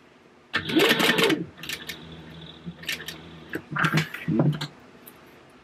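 A sewing machine stitches fabric panels for a book bag, running in a loud close burst, then pausing and restarting in shorter whirring runs with quiet gaps between them.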